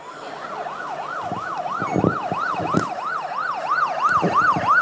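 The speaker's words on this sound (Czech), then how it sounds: "Jak slyšíte, už nám ty hasiči jedou." A fire engine siren wails, sweeping up and down in rapid, regular cycles, loud and close, over the rumble of passing traffic in Jablonecké Paseky.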